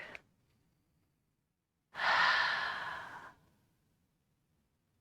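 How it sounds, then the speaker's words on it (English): One long clearing exhale during a yoga session, a breathy rush of air lasting over a second, close and fairly soft, surrounded by quiet. "One clearing breath there."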